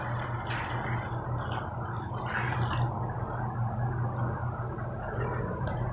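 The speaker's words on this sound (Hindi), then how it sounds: "4 गिलास हम इसके अंदर पानी ऐड कर देंगे।" Water poured into a cooking pot holding rice for a potato rice dish, a steady close-up splashing and gurgling fill that runs throughout with no talk.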